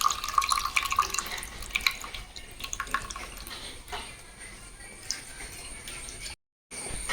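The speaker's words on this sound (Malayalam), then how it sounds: "പുളി നല്ലോണം ഉടച്ച് പിഴിഞ്ഞ വെള്ളം നമ്മളെ കറിക്ക് വേണ്ടി അതിലേക്ക് ഒഴിച്ച് കൊടുത്ത ശേഷം" Squeezed tamarind water poured into a Kerala mackerel fish curry, giving light splashes and drips near the start that thin out to a quiet background.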